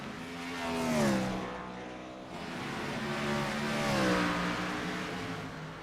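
Race cars at Mid-Ohio roar past at a distance, their engines rising and falling as two passes sweep by against a steady hum of track noise.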